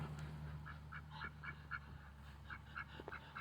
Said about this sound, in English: He's making this raspy quack noise, very quiet